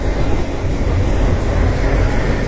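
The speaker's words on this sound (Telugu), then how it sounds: "ఇక్కడ ఒక గూడ్స్ ఉంది. ఇది ఓల్డ్ లోకోమోటివ్, డీజిల్ అనుకుంటా." An old diesel locomotive hauling a goods train gives a loud, close, continuous rumble of wheels and engine, steady for the whole stretch with no talk.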